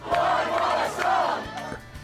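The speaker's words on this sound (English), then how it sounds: "hearing the crowds cheer" A big crowd at a live concert roars and cheers in two swelling waves, loud and sustained, with faint tonal music beneath.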